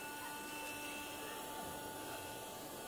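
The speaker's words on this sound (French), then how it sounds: "J'aspire. Ça s'appelle un aspirateur." A steady, continuous motor whine with broadband airflow noise, like a vacuum-type pump or inflator running without pause, moderately close and unbroken across the whole stretch, with no talk over it.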